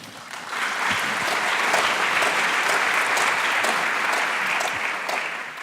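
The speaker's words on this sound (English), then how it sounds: "so let's give them a round of applause" A forum audience breaks into a sustained round of applause, steady dense clapping that swells quickly and holds evenly for several seconds before tapering slightly at the end.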